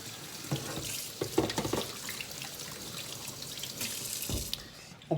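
Water runs from a tap over a Dyson V8 cordless vacuum's dust bin being rinsed, a steady splashing stream with small knocks and clatters of plastic, fairly close and moderately quiet.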